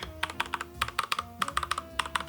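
A budget white 60% keyboard with red switches clacks under fast, steady typing, each keystroke crisp and close in a brisk even rhythm with a deep thocky tone.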